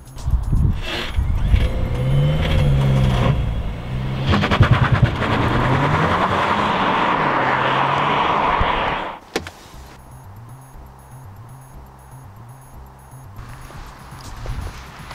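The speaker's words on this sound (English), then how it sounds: "This will raise the RPM of the car, ready for launch control to be in use." Cupra car engine held at raised revs for launch control, a loud, sustained drone with wavering pitch for about nine seconds, then dropping abruptly to a low, steady idle.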